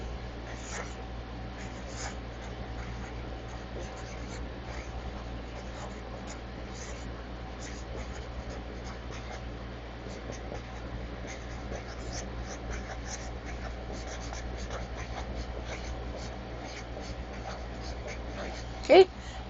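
Marker or chalk writing on a classroom board, a steady run of faint scratchy strokes under a constant room hum, with no talking.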